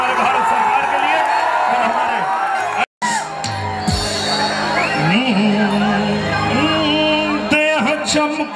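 A large crowd at a live stage performance in Daman cheers, whoops and shouts loudly and continuously, with amplified voices over the din and a brief cut partway through.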